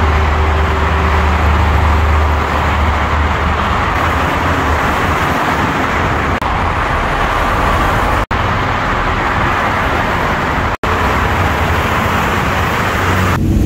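A Yamaha YBR motorcycle riding along a road, heard as a loud, continuous engine and wind roar with road noise that stays steady throughout, with no talking.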